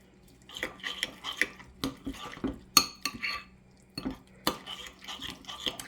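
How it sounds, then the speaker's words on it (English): A tuna croquette mixture with egg and parsley is stirred in a bowl, giving a close run of clinking and scraping utensil strokes against the dish in an irregular rhythm. "I'm just going to kind of give this a good little mix"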